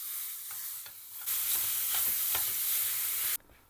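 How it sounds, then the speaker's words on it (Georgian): Mixed minced meat frying in a pan, a dense close sizzle that swells louder midway with stirring scrapes, then drops off abruptly near the end. "500 გრამი შერეული ფარში მოვშუშოთ ტაფაზე."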